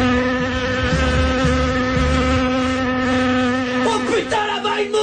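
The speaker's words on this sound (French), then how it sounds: "là-bas, une mouche, planquez-vous!" A fly buzzes loudly and continuously in a comedic French Star Wars Episode I parody scene, its steady droning whine holding close up throughout, with wavering pitch toward the end.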